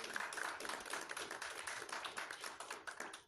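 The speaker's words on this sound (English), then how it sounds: "We hear the applause, Dave." Audience applause at a snooker tournament, a dense patter of many hands clapping at moderate distance, sustained for a few seconds and fading slightly toward the end.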